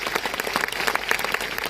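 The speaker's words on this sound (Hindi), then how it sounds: "तालियां थोड़ी जोरदार आप बजा सकते हैं आपकी संख्या के हिसाब से।" A seated audience at a direct-selling company event claps steadily, a dense patter of many hands at moderate distance, brief and without voices.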